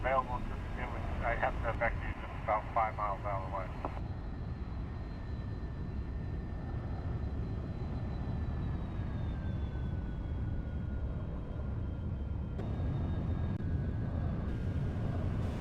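Jet airliner taking off from Amsterdam in a flight simulator game, a steady engine roar running under talk for most of the clip, with a rising whine and a few clicks early on.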